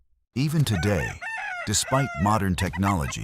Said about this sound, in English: hearing a rooster crow at dawn feels familiar